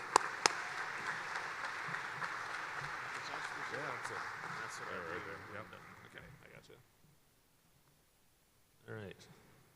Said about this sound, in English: Let's give Nathan a round of applause to the stage.